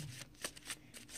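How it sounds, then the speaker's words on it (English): Tarot cards being shuffled close by: soft, quick papery riffles and slaps in a short, faint burst, with no talking. "Keep on shuffling."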